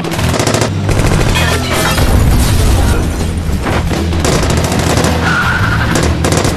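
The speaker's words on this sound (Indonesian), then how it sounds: "Aksi baku tembak pun terus terjadi." Loud, dense gunfire from a film shootout: rapid overlapping shots and bursts with booms and screeching, continuous and close throughout.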